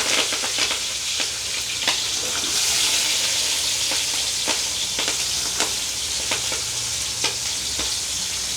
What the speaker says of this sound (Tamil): எண்ணெய் வந்து எங்களுக்கு கொதிச்சிட்டுது நாங்கள் கொஞ்சமாக கடுகும் பெருஞ்சீரகமும் போடுவோம்